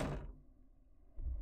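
A door opening in the horror video game Ao Oni, a short burst at the start followed by a quiet dark room tone and a second low thud near the end, heard alone without talk.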